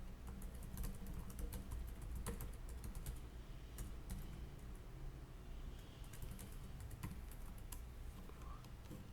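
Computer keyboard keys are tapped in quick, irregular bursts of clicks, close and fairly quiet, as a username and password are entered, with no voices.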